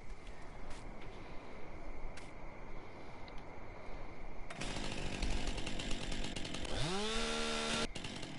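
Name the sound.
chainsaw running in a farming simulator video game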